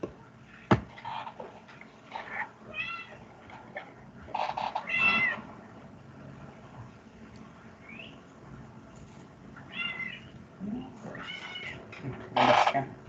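A house cat meows several times in short, separate calls spread across a quiet room, some faint and a couple louder and closer, with no talking over them.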